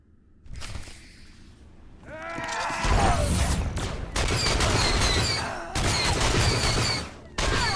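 Video game gunfire in Star Wars: The Old Republic, a sustained loud fusillade of blaster shots and impacts that swells and persists in dense bursts with brief gaps.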